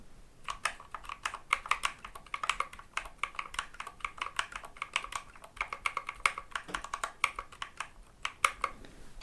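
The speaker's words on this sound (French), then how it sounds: "Dans ce clavier, il n'y a pas que des Helios V2, il y a aussi des Clear Switch qui font encore un autre bruit." Mechanical keyboard switches, Helios V2 and clear switches, clack in a quick, uneven typing rhythm, close and clear with no talking.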